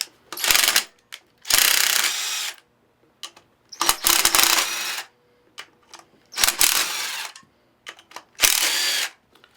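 A 5/16 socket ratchet loosens the through bolts on a GE pump motor from a Cal Spa hot tub, giving five bursts of rapid clicking, each about a second long, separated by short quiet gaps with light metallic taps.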